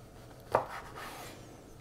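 A knife cuts through a chocolate hazelnut babka brioche in one short, soft crunching stroke against a quiet kitchen background.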